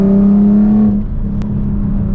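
A Nissan 370Z Nismo warming up, its engine holding a loud, steady idle hum with a brief drop in pitch partway through, heard close and alone.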